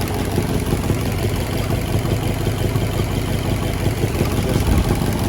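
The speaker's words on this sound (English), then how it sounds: "Old solid cam engine." A 1967 Chrysler Marine 318 V8 boat engine with solid cams idles steadily, a loud, rough low rumble with a constant mechanical clatter and no voices.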